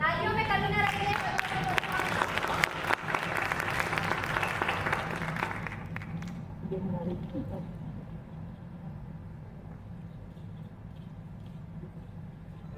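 An audience at a stage drama claps for child performers, a full, lively round of applause that fades out about halfway through, leaving quieter murmuring and background sound.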